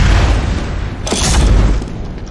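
A heavy, booming rocket explosion from Team Fortress 2 rumbles low and loud, with a sharp burst near the middle over a continuous roaring background of game noise.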